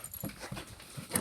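Pet dog panting and snuffling up close, with short breathy puffs in an uneven rhythm and a faint whimper.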